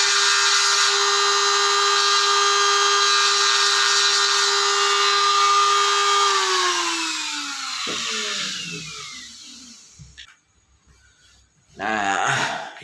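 A power tool roughly sands a tripod holder part, a loud, steady high whine that winds down in pitch after about six seconds and fades, followed by quiet handling and a short burst of noise near the end.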